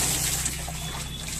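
Water splashes and trickles close by in a bathroom during bathing, a brief soft wet pouring sound with no talk over it.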